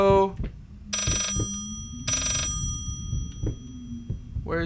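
Telephone ringing inside the horror video game Layers of Fear, two long bursts of bright bell-like ringing separated by a pause, over low ambient rumble and footsteps.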